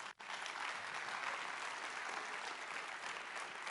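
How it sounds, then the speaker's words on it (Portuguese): A church congregation breaks into applause, dense, even clapping from many people that carries on steadily after a brief gap at the start, somewhat distant and soft. "Aplauda ao Senhor."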